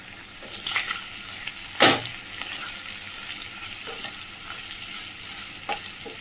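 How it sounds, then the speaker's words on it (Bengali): Onions fry in a pan with a continuous sizzle and occasional stirring scrapes, including one louder scrape near the middle. "এদিকে পেঁয়াজটাও ভাজা হচ্ছে, পেঁয়াজটা আরেকটু ভাজা হচ্ছে।"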